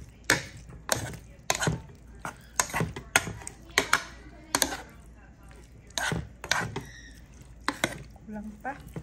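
Menudo being mixed with sauce in a pan: a series of sharp, irregular spoon knocks and scrapes against the pan, close and distinct, with brief pauses between strokes.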